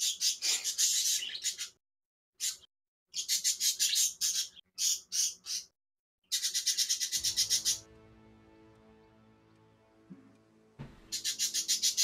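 Pet birds chirp in rapid, bright bursts, stopping and starting several times, with a low steady hum underneath during one of the pauses.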